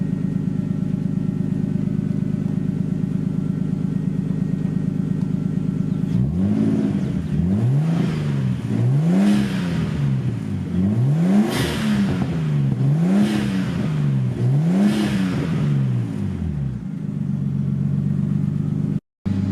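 A Nissan R32 drift car with a loud exhaust idles steadily, then gets about six sharp throttle blips in quick succession, each rev rising and falling close by, before settling back to a rumbling idle.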